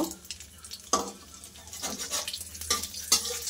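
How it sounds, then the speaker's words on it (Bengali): Whole cumin and a dried red chili dropped into hot oil for tempering, a soft close sizzle with a few sharp crackling bursts and spoon scrapes against the pan. "এইবার আমি তেলের মধ্যে গোটা জিরে আর একটা শুকনো লঙ্কার ফোড়ন দিয়ে দেব।"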